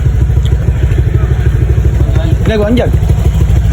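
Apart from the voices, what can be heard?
motorcycle engine running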